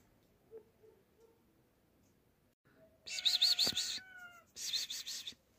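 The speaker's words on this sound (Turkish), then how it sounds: "Kedi ses veriyor ama gelesi yok." A cat meows twice near an old village house in Ahırlı, Turkey, with a longer, clear, wavering call followed after a short pause by a second one, against an otherwise quiet background.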